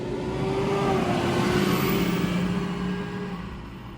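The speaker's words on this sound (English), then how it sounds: "Excuse me 1 second as this truck rolls by." A truck rolling past on a road outside, a loud engine roar with tire noise that swells and then fades as it goes by, with no talk over it.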